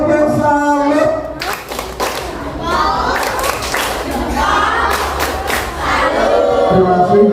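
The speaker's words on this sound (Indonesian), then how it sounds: "Tepuk salut." A class of students doing a rhythmic salute clap indoors: loud, sharp claps in a patterned beat mixed with shouting voices and crowd noise throughout.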